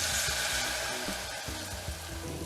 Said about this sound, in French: On va déglacer avec un peu de vin rouge